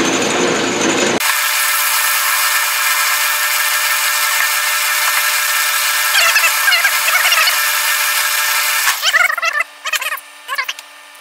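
Power tool machining a hole in a metal belt grinder wheel, a loud steady high whine that starts abruptly after a second, with chattering cutting bursts near the end.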